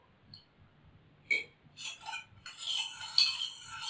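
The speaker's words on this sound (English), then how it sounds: "Stirring it slowly." Spoon stirring pani puri water in a bowl, with a few soft clinks against the dish followed by a steady, gentle swirling of liquid, close and quiet.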